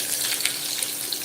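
Onions fry in a pan while being stirred, making a steady, close hiss of sizzling with faint crackles throughout.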